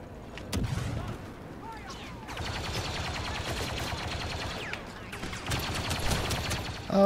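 Rapid-fire blaster gunfire from the Star Wars Battlefront II video game, two sustained volleys of quick repeating shots at moderate loudness, with a voice talking briefly.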